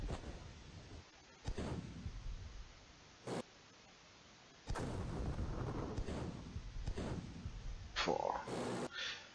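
An artillery gun fires in a World War II tank strategy video game, Frontline Road to Moscow, with heavy booming blasts and long rumbling noise bursts. Several shots come in separate waves under a low background hiss, and someone speaks over parts of it.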